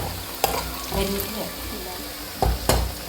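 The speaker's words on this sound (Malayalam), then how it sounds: "ചെറിയുള്ളി, സബോള നന്നായി ചോപ്പ് ചെയ്ത് എണ്ണയിലിട്ട് വഴറ്റി ബ്രൗൺ കളറാകുമ്പോൾ" Small shallots and onions fry steadily in hot oil for a Thrissur-style fish curry, a continuous close sizzle broken by a few sharp scrapes and stirring knocks.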